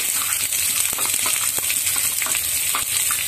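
Carrot and capsicum fry quickly in a hot pan for fried rice, with a constant loud sizzle and occasional stirring scrapes close by and no one speaking.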